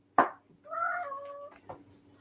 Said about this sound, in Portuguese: desculpem lá que eu tenho aqui um gato a querer saltar para cima da mesa.